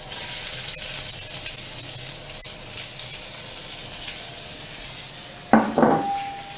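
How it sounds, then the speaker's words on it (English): A teaspoon of cumin seeds fries in a pan with a steady, close sizzling hiss, broken near the end by a sharp metallic clank and a brief flare of louder crackling. "The cumin seeds starting to fry"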